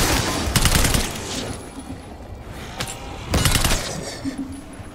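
Video game gunfire in Black Ops 6 Zombies: two loud clusters of rapid shots, close and sharp, separated by quieter sporadic pops and a faint background hum.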